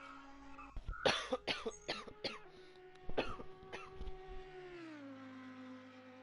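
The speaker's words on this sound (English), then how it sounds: "I just choked on my water." A person coughs repeatedly after choking on water, with a burst of harsh, close coughs and throat clearing over a steady engine drone from a racing stream.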